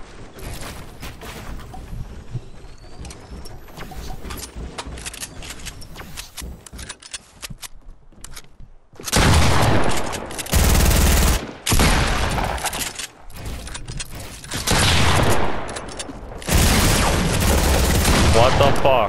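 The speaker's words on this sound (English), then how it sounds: "You're getting shot by another team, by the way." Heavy gunfire from an opposing team in a multiplayer shooter game: sparse shots at first, then loud sustained bursts of automatic fire in the second half, with players talking over it.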